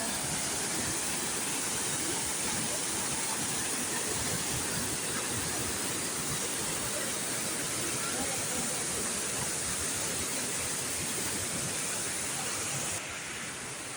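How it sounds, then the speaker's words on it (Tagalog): Antong Falls in Sison, Pangasinan roars as a powerful waterfall, a loud, steady broadband rush filling the whole stretch without letup. "ang lakas ng water falls nila guys"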